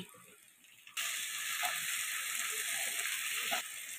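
Chopped tomato hits hot oil in a pan and bursts into a loud, steady hiss of frying that runs for a few seconds, then drops back to a quieter sizzle.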